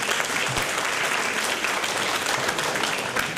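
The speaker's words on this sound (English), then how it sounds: "Few claps, please." Audience applause fills a hall at an international congress, a steady, dense wash of many hands clapping at even loudness from start to finish, with no voices standing out.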